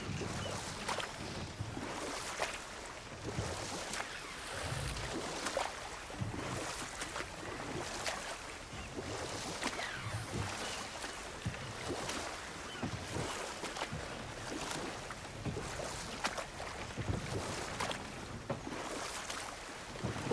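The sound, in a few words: waterfall in the video game God of War Ragnarök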